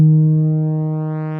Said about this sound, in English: This will make the waveform sound somewhere in between a saw and a sine wave